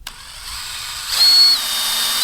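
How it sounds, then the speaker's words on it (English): An electric drill with a 4.5mm bit whines up to speed and bites in, drilling a pilot hole for a motorcycle tow hitch bar, its pitch holding steady then dropping slightly as it works, loud and close. "I drill a much smaller hole than needed."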